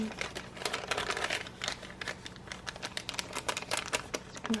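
A paper receipt being folded and handled up close, with continuous crinkling and crisp rustling in quick irregular bursts, fairly loud and without talk.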